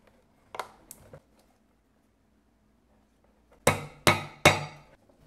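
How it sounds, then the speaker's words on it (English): Hammer blows drive a punch through leather for a rivet hole while a strawberry-shaped bag is made. Two light taps come first, then after a pause three loud, sharp strikes land in quick succession, close by, with no talking. "and mark it, and punch a hole for a rivet."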